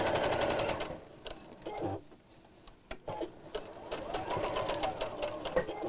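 A sewing machine stitches a drawstring box bag, running in fast rhythmic bursts, pausing for a moment in the middle, then speeding up again, close and clear.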